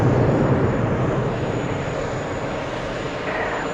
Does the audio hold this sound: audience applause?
no